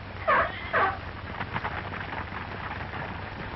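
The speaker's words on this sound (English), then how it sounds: "Zebras in zoos over here rarely make any kind of a sound, but this shrill bark is common both day and night in Africa." A zebra in Africa gives two shrill, short barking calls in quick succession, heard at moderate distance over a steady background hiss.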